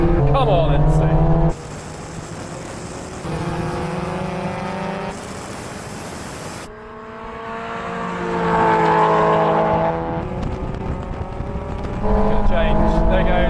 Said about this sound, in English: We're going to have another rolling race, this time from 50 miles an hour in third gear.